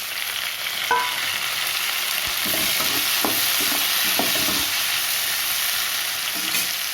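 Small tomatoes frying with curry leaves in hot oil for a pea curry, a steady loud sizzle throughout with a few soft scrapes and taps of a spoon stirring in the pan.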